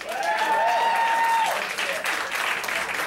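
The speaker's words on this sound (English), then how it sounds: "round of applause" A crowd at a hypnosis stage show breaks into steady applause that holds for about three seconds, with a faint whistle-like tone and voices mixed into the clapping.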